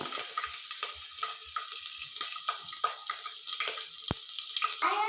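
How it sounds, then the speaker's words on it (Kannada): Garlic frying in a pan for mushroom pulao, crackling and sizzling close up with a steady hiss broken by sharp pops and stirring scrapes, no voices. "ಇವಾಗ ಸೌಂಡ್ ಬರ್ತಾ ಇದೆ ಚಟಪಟ ಅಂತ. ಬೆಳ್ಳುಳ್ಳಿ ಹಾಕ್ಕೊತಾ ಇದ್ದೀವಿ."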